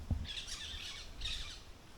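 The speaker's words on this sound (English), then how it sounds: "the parrot them are coming there" Parrots squawk near a goat field where goats are brought out for sun, exercise and grass feeding, two bright harsh calls at moderate distance over a quiet outdoor background.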